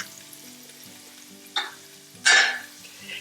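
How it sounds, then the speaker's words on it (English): Food sizzles quietly in a pan, a soft steady hiss broken by two short, louder crackling bursts. "This is starting to sizzle."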